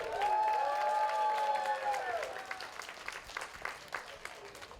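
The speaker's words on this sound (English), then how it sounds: "Let's give him a big round of applause, everyone." A crowd claps at a wedding, the applause fading while a voice speaks over it and a high ringing tone trails off.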